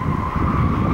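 Race car, a Lotus Exige, coming around a track, a loud steady engine roar close by with a hint of tyre noise, held for just under a second.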